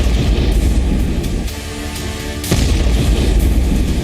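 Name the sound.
explosion of 10,000 kg MOAB bomb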